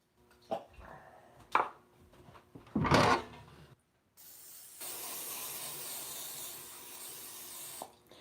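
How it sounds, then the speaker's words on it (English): Cooking spray hisses onto baking sheets in a kitchen, a sustained aerosol spray lasting several seconds after a few clicks and handling knocks, fairly close and moderately loud. "We're gonna need to spray them down with some cooking spray."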